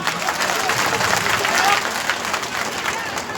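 Audience at a Kurmi public rally applauds, a dense, steady wash of clapping from a large crowd that stays loud throughout, with voices mixed into the noise.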